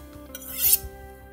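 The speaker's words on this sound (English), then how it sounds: "you use the ceramic white side to polish off" A knife edge is drawn briefly along the white ceramic side of a sharpening steel, giving one short, light rasping stroke, close and fairly quiet.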